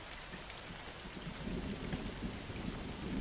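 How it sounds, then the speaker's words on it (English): Heavy rain pours down steadily with low rolling thunder rumbling beneath it, the downpour swelling louder partway through and staying dense and close to the end. "The rain was falling with overwhelming intensity, as if the sky had decided to unleash its fury on us."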